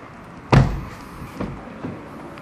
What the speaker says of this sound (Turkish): Kapıyı kapattık.